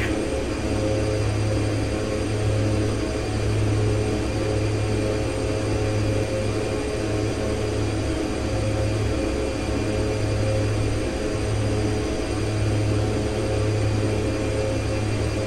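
Steady drone of a Twin Otter's twin turboprop engines in flight, simulated in X-Plane 11 on approach to Tucson International, a continuous loud hum with a pulsing low throb and no talk.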